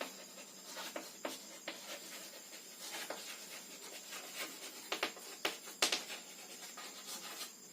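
Chalk or marker scratching and tapping on a board during a weather and climate lecture, faint irregular strokes and light knocks in a quiet room.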